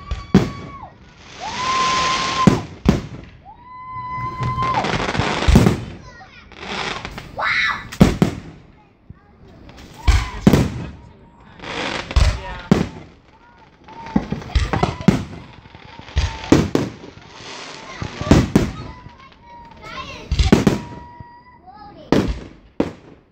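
Fireworks burst at the Apricot Fiesta, seen from inside the safety perimeter, with a long run of loud, close booms and crackling bangs in irregular rapid succession and people's voices heard between them.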